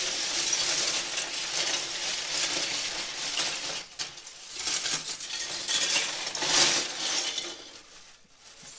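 Lego pieces from a twenty-dollar red box tipped out of a bag onto a surface, a dense cascade of plastic clattering and clinking in waves, close by, with a brief lull before more pieces spill.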